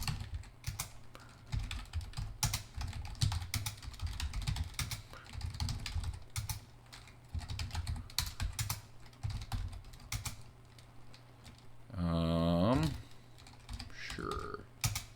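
Brisk typing on a computer keyboard at a Linux terminal, bursts of close key clicks with short pauses, briefly interrupted near the end by a tonal sound.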